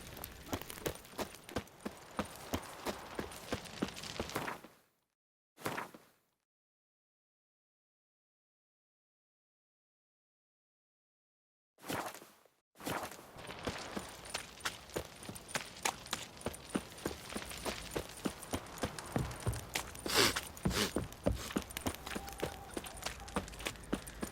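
Horse hooves clip-clopping at a fast gallop in the video game The Witcher 3 during a race, a dense rapid rhythm that drops to silence for several seconds midway and then resumes, faint, with no talking.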